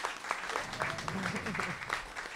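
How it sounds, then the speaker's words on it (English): Audience applause breaking out for an honored guest at a jazz history talk, a short, moderate burst of clapping mixed with a speaking voice over it. "give her a big hand of applause"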